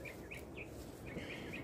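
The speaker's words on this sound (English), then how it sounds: "you hear the bird?" A small bird sings in a backyard garden, a few faint high chirps and short trills repeated over a soft outdoor background hum, distant and quiet.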